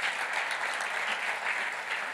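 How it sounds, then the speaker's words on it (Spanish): A church congregation at a 2015 retreat in New York applauds in steady, sustained clapping that fills the room without a break. "Dele palmas al Señor de la gloria."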